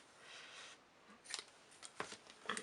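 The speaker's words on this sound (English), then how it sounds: "So I'm going to snip a piece off, and then I'll snip a second piece off." Scissors snip through ribbon while making an easy DIY birthday card, several crisp separate cuts coming close and fairly quiet, a soft rustle first and then a sharp snip about every half second.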